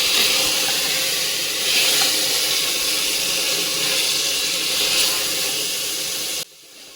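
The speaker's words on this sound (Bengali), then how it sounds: "এখন আমি পানিটা দিয়ে দিলাম" Water pours in a steady, loud rushing hiss into a pressure cooker holding browned goat trotters, continuing for several seconds before cutting off abruptly.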